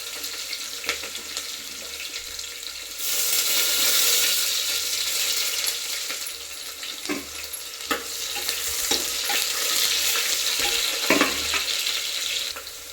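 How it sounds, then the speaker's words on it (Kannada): Chopped onions roasting in a pan for a fenugreek-leaf rice bath, with dry curry leaves already in. A quieter start swells into a loud, continuous hiss of frying, broken by occasional scrapes of stirring. No voices. "ನಾನು ಕಟ್ ಮಾಡ್ಕೊಂಡಿರೋ ಈರುಳ್ಳಿ ಹಾಕ್ತಾಯಿದ್ದೀನಿ ಈರುಳ್ಳಿ ಸ್ವಲ್ಪ ರೋಸ್ಟ್ ಆಗಬೇಕಾಗುತ್ತೆ"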